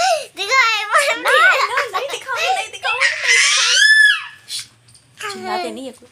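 A young child shrieks and squeals loudly at close range in a few excited bursts, mixed with high-pitched childish vocalizing and a brief pause before a final outburst.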